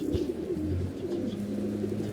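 Domestic pigeons, a red-and-white mated pair, coo in soft low throbbing phrases close by, with a steady murmur of background noise and no talking.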